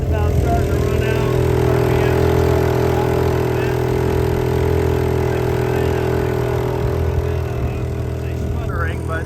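A Honda 2 HP outboard motor pushing a Montgomery 17 sailboat runs steadily and loud, its drone beginning to waver and sputter as fuel runs low, with a voice talking over it.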